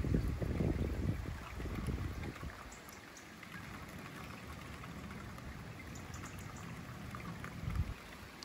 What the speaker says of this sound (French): On a toujours ce mélange de pluie et neige mêlée